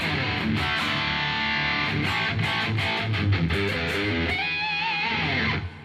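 Crunchy overdriven electric guitar, a Kramer Barretta Special through Quad Cortex 50-watt Plexi and AC30 amp models, plays chords and riffs, ending on a ringing bent lead note, loud and up front.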